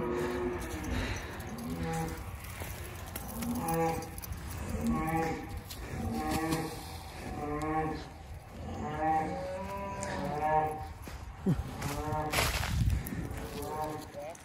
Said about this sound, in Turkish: Bizim diğer inekler de bağırıyor bunları çıkardık diye.